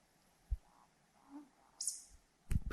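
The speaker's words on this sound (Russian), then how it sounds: "Птицы, хруст веток, шум листвы." Birds call in a forest: a single short, bright call stands out briefly among soft scattered rustles and a few dull knocks, with no talking.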